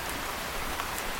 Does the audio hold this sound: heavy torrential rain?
yes